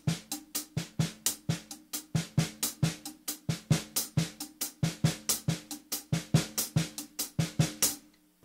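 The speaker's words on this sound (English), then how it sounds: "We're going to play it on our hi-hats with our right hand, snare drum with our left hand." A paradiddle-diddle sticking played on drum kit, right hand on the hi-hat and left hand on the snare, a steady, even run of close, crisp strokes with regular accents for about eight seconds, no talking.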